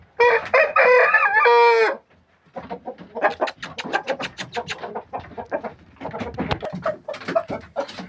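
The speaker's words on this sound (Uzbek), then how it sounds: "bu 3-chi xo'rozimiz" A fighting rooster being readied for bouts, weighing about 4 kilos, crows loudly and close for about two seconds, then clucks and scratching-like bird noises follow at a lower level.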